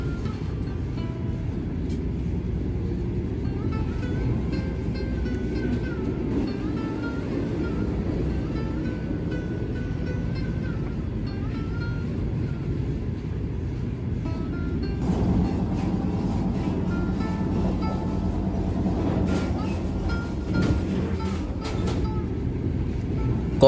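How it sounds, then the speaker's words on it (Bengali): Puri–Howrah Vande Bharat express train running at about 130 km/h, a steady low rumble and rolling drone heard from inside the carriage for the whole stretch, growing slightly louder and rattlier in the later part. "ছাড়ল ট্রেন। 130 কিলোমিটার বেগে এগিয়ে চলল বন্দে ভারত পুরী থেকে হাওড়ার দিকে।"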